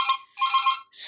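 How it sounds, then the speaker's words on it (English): A phone ringtone plays nearby as a short electronic melody in bright, clear tones with a brief pause between phrases, with no voices. "never mind that phone ring"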